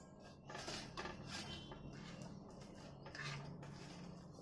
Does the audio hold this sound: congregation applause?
no